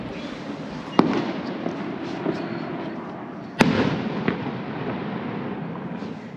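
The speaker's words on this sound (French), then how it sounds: "Des feux d'artifice." Two sharp firework bangs burst about two and a half seconds apart, each followed by a lingering crackle and rumble. Fainter pops sound in the distance over a steady background hum.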